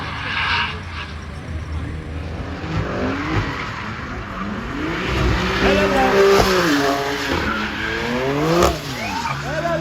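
On a track day at İzmir Ülkü Park, a car slides through corners with tires squealing and skidding in rising, wavering pitches, engine droning beneath, fairly distant with people chatting over it.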